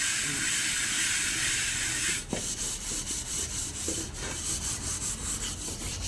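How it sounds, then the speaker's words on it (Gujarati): Dishes and utensils being scrubbed and washed at home: a continuous close rubbing and scouring noise over a steady hissing wash of running water, with faint clinks of pots, no talking. "મારા મમ્મી જો વાસણ ઉટકવા માંડ્યા"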